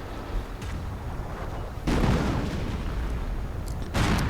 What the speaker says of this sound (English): And a preparatory artillery barrage as they advance.